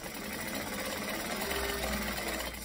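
A sewing machine runs steadily while stitching long seam lines for a Charlotte garment by Swoon, a close, continuous mechanical whir with a low motor hum that deepens partway through, no voices.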